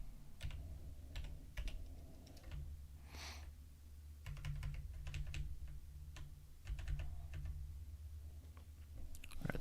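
Typing on a computer keyboard at a desk, irregular bursts of close clicking keystrokes with short pauses, over a steady low hum, no talking.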